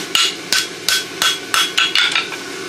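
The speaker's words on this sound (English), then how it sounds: "Try not to hit my camera with the hammer." A hammer strikes hot metal while forge welding old horseshoes together, a steady series of about seven sharp, ringing blows, loud and close, with no talking.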